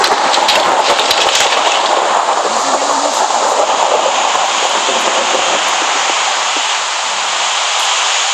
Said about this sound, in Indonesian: Ini malah hujan.